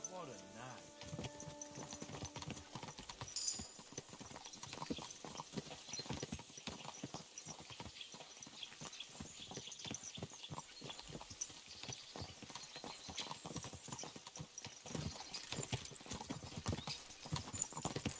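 Horse hooves clip-clop at a steady, even walking rhythm in the video game Kingdom Come Deliverance 2, close and continuous, with characters talking over the hoofbeats.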